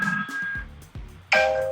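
A phone rings with a sequence of short electronic tones, and a louder, brighter ring bursts in near the end, close and clear with no speech.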